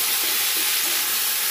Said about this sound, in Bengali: এরকম ডালের সবজিগুলো ভাজা করছি